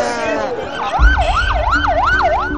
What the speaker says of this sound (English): Ambulances raced through the streets,